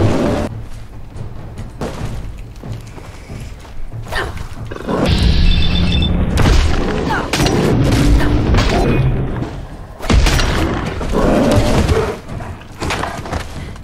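Heavy booming weapon fire from Fallout 4 with mods, in repeated loud thumping blasts and bursts separated by brief lulls.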